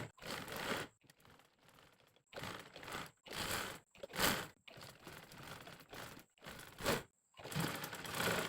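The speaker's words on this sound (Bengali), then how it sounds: "তো আমি সেলাই করছি, সেলাই করার পর আপনাদেরকে দেখিয়ে দিব" A sewing machine stitches the sleeve of a Punjabi kurta in short, stop-start runs of mechanical whirring, with brief pauses between bursts and no voices, heard close and fairly quiet.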